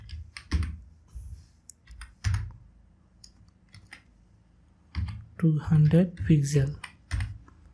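Keystrokes on a computer keyboard while writing CSS code, quick clusters of clicks scattered through the clip with someone talking over parts of it.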